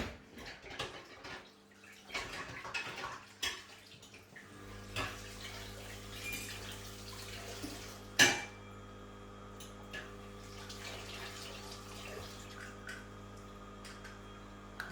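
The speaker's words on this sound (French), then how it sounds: "Je vais encore rincer mon bras." Water runs from a tap over an arm being rinsed during mousse preparation, a steady soft splashing wash that holds for most of the stretch with a few sharper knocks and drips, fairly quiet and close.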